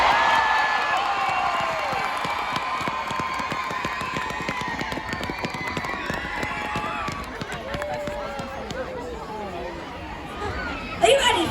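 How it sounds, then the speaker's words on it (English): An outdoor crowd gathered for a Christmas light switch-on, with chatter and scattered cheering, sustained crowd noise and brief shouts that swell near the end, people talking throughout. "A big cheer after a 1, 2, 3."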